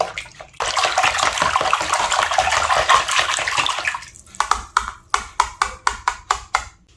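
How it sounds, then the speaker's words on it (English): Whisk stirring eggs, vanilla and melted unsalted butter in a bowl for bread pudding: a steady wet swishing that gives way to a run of quick, rhythmic taps against the bowl. "Now I'm going to take my whisk and just stir this until incorporated."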